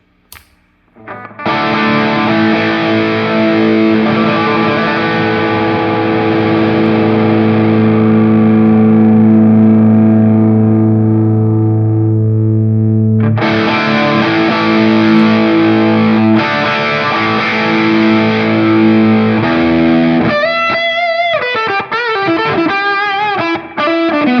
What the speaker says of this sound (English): Distortion first, the overdrive is really smoothing out some of the rough edges